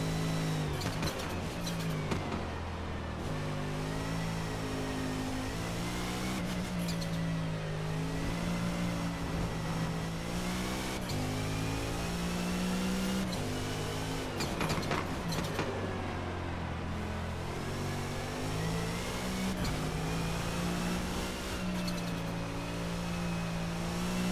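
Race car engine in a wet race in the video game Forza Motorsport, steady droning revs rising and falling through gear changes, continuous and fairly quiet, with no talking.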